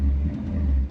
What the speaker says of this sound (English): inside the car, the exhaust is loud